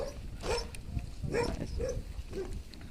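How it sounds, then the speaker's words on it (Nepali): A dog on a farm in Romania, where sheep and goats are kept, gives several short, fairly close barks and whimpering yelps at an uneven pace over steady low outdoor background noise. "कुकुर त डेन्जर छ त्यहाँ।"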